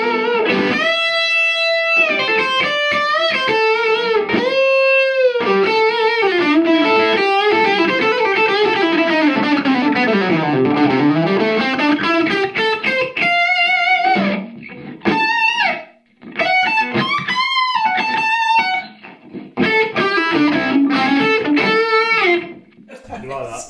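Gibson Les Paul Classic electric guitar through hotter distortion, playing a long run of sustained, bending lead notes and riffs, loud and continuous with a few short breaks.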